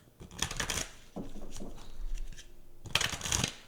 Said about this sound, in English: So let's go ahead and shuffle this deck now.